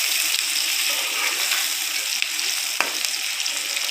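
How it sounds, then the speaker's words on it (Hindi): Onions frying in a pot for spicy chicken pulao, a dense, loud, continuous sizzle with a couple of small sharp clicks from stirring partway through, no voices. "प्याज डाले मैंने, प्याज गिराओ और मसाले डालूंगी।"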